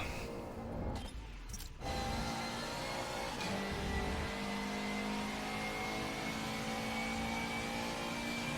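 Race car engine in a racing game held at high revs against the rev limiter, a steady buzzing drone with a brief dip early on, loud and continuous with no talk.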